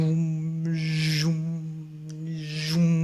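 A human voice imitates a Star Wars lightsaber with a steady buzzing hum and two rising, breathy swoosh sweeps layered over it, close and alone.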